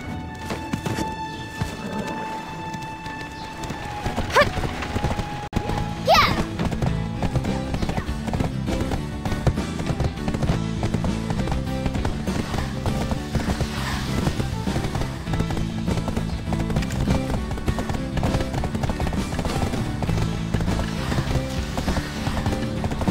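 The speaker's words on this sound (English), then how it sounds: "Try sprinting across an open field on the back of a horse." A horse gallops across an open field in the online role-playing game Black Desert Online, rapid rhythmic hoofbeats running continuously under game music.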